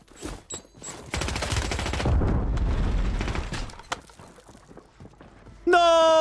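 Gunfire erupts in a Warzone match: a sustained burst of automatic fire with booming impacts, loud and close, running over a couple of seconds before fading, with a player's voice shouting over parts of it.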